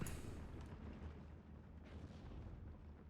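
Distant, muffled artillery fire in Steel Division: Normandy 44, a low rumbling stream of booms and bursts at a faint level, with no talk.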